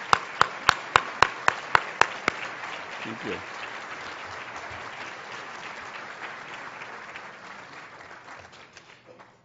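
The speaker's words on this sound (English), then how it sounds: "you deserve a round of applause and our thanks and gratitude" Conference audience at a tourism governor's conference breaks into loud applause after a few sharp opening claps, the clapping sustained and gradually thinning over several seconds, with a brief spoken thanks near the start.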